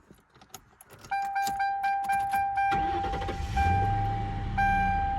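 Keys jangle before a 2000 Mercury Grand Marquis starts, its chime pinging repeatedly while the starter cranks in a regular rhythm, then the engine catches and settles into a low idle, close by.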